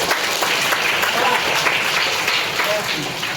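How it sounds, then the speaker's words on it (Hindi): A loud, dense round of clapping from a school crowd at a birthday celebration, sustained and even throughout, with voices mixed in beneath the applause. "आलोक कुमार के लिए जोरदार ताली बजाइए"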